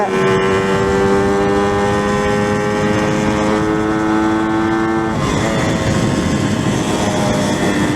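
A Yamaha RX two-stroke motorcycle engine drones loud and close under throttle, a steady buzzing tone that holds then drops in pitch about two-thirds through before carrying on evenly.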